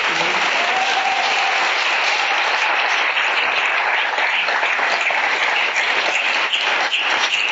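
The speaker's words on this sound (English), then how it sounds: "So can we have a round of applause for our candidates?" Sustained applause from the audience at a candidates' forum for Democratic state representative hopefuls, a dense, steady clapping lasting several seconds, loud and filling the room.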